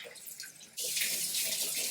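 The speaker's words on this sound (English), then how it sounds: "I sometimes will just turn the water on and then just like let it go for a while." After a short quiet lead-in, a kitchen tap is turned on and warm water pours in a steady, hissing stream that continues to the end.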